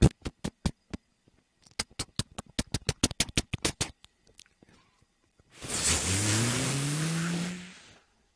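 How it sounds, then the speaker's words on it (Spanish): A car engine revs up and pulls away for about three seconds with a rising tone, after a run of sharp tapping or clicking sounds. "El coche se fue."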